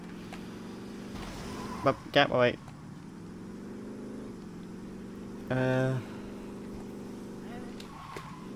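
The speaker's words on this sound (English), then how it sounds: "it has a nice roaring engine" A car engine roars in the video game Saints Row 2, a steady low drone with brief louder revving bursts, under occasional speech.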